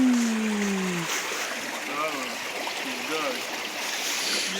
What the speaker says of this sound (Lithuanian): Upelis.